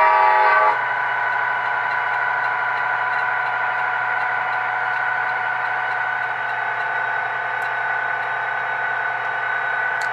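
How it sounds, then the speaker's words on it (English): An HO scale model train's K5LA multi-chime horn, Amtrak style, blows up close, holding a steady, loud chord for about ten seconds with only a slight dip near the start. "what I liked about this horn on the select is it sounds pretty much like an Amtrak horn"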